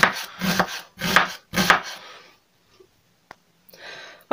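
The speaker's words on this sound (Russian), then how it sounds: "Огурцы нарезаем тоже мелким кубиком, вот таким вот, и соединяем с луком." A knife chops cucumbers into small cubes in three quick heavy strokes, followed by quieter scraping and a faint tap on a cutting board, close up.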